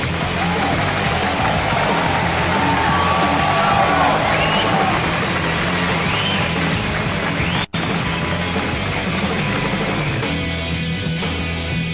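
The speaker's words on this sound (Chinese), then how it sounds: "我们用热情的掌声请上黑方广东队的运动员吴浩" A loud crowd applauds and cheers steadily to welcome Guangdong team athlete Wu Hao at an 80 kg league match, a dense, continuous roar of clapping with shouts mixed in that carries on without a break.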